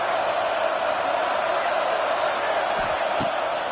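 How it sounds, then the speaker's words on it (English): A dense, steady stadium crowd roar in a football video game fills the whole stretch at an even, loud level, with a couple of faint thumps near the end. "Listen to this crowd just shaking the girders of this place"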